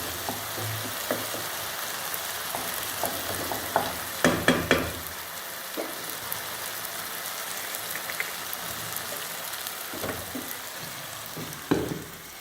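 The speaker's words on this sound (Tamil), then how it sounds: "இது கொஞ்சம் ஒரு 2-3 நிமிஷம் வதக்கட்டும்." Eggplant sautéing in oil for thokku, a steady close sizzle throughout with occasional scrapes and knocks of a spoon stirring in the pan.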